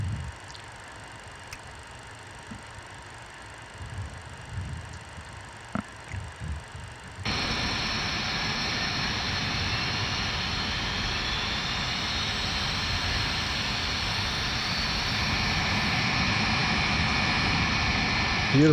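The number two jet engine of a 1989 jet aircraft spools up: quiet cockpit clicks and faint sounds give way to a sudden loud, steady whine and roar that holds and builds slightly to the end.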